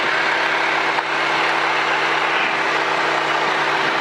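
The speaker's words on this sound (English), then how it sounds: "we're going to bring the engine up to running speed and just make sure everything's smooth" A light airplane engine on a flight-training aircraft holds a steady, loud, droning run at speed, with a continuous hum and no talking.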